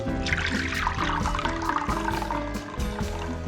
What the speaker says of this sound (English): we are just going to pour our sorbet mixture